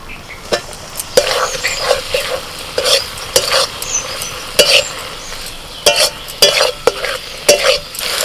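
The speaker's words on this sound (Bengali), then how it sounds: "এবার ভাজা আলুগুলো দিয়ে দিচ্ছি।" Fried potatoes are stirred into a sizzling spice paste of cashew and poppy seed in a hot pan. A steady frying hiss runs underneath, broken by repeated sharp scrapes of the spoon against the pan.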